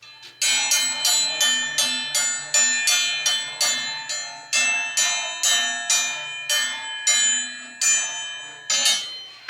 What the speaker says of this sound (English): we are going to ring the dinner bell and get the crew in here to eat